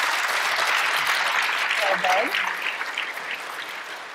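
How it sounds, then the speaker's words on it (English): Audience applause for panel members at a general luncheon, a dense steady wash of clapping that fades slightly toward the end, with a brief spoken word over it. "I'd like you to give a round of applause to our panel members."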